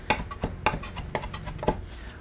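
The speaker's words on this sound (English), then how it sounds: "I'm getting down to the end here of my parsley leaves, and then I want to just give these a quick chop" A chef's knife quickly chopping parsley leaves on a cutting board, about eight crisp, evenly spaced knocks in quick succession, close and clear with no talking.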